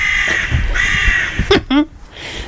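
A crow caws loudly a few times in a harsh, repeated call, followed by two short sharp sounds close by.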